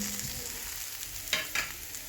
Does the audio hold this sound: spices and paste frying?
yes